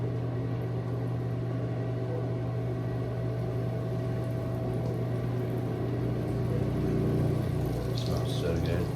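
Battered dogfish and flounder fillets frying in hot oil, a constant bubbling sizzle under a steady hum, with the frying heard close throughout.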